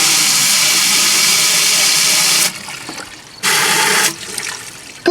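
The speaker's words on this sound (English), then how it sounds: "Rinse out these hoses." Water runs and sprays while rinsing out pool pump filtration hoses during winterizing, a loud steady hiss for about two and a half seconds, then stopping and starting again in a second shorter burst.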